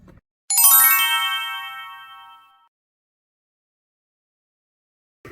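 A single bright chiming tone rings out loudly, like a phone alert, ringing on and fading away over about two seconds amid otherwise quiet surroundings, with a brief low sound near the start and end.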